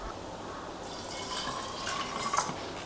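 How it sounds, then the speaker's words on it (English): A small amount of water is poured over ice inside a budget Kmart blender jug, giving a soft, steady trickle with a few drips and splashes at the end, close and fairly quiet. "I'm going to pour some little water in it"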